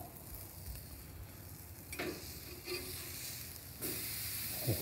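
Two burgers frying on a Blackstone Tailgater griddle outdoors, a soft steady sizzle with a few faint clanks of a spatula or cover, no voices.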